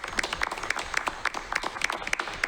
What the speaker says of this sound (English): I'm going to give you a round of applause for that.